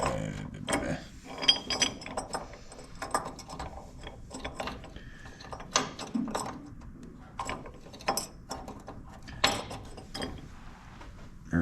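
A bolt being threaded by hand into a part on a 1963 Ford Fairlane, heard as steady close metallic ratcheting and clicking with small clinks of metal on metal, a busy run of mechanical ticks with no talk.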